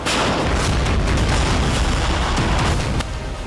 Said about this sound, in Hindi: रूस ने एक साथ 11 मोर्टार दागे।